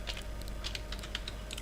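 Quick, light clicking of keys on a computer keyboard during HTML code editing, an irregular run of taps close by and fairly quiet over a low background hum, with no voices.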